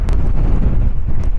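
Strong, gusting wind buffets the microphone on an exposed hilltop summit at the remains of a hill fort, a dense continuous low roar that stays loud throughout with no voices.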